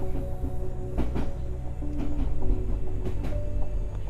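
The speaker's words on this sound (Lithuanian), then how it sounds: "Traukinys šiek tiek sulėtėja." A train travelling slowly at night, with a low steady rumble and irregular rattling clanks from the carriages, heard close and continuous without talk.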